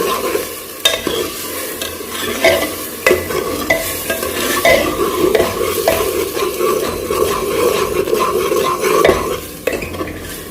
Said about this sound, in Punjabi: ਹੁਣ ਆਪਾਂ ਇਹਦੇ ਵਿੱਚ ਵਾਲਾ ਪਾਣੀ ਸੁਕਾ ਲੈਣਾ ਨਾਲ ਚੰਗੀ ਤਰ੍ਹਾਂ ਤੜਕਾ ਲਾ ਲੈਣਾ